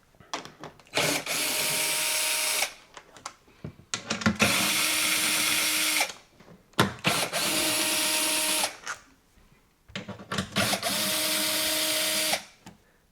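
A power tool removes 10mm bolts from the frunk of a Tesla Model Y, whirring loudly in four separate runs of about two seconds each, with brief clicks and pauses between them.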